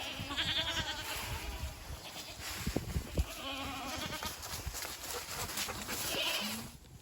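Several goats bleat on and off amid outdoor rustling and footsteps, their calls overlapping at moderate distance.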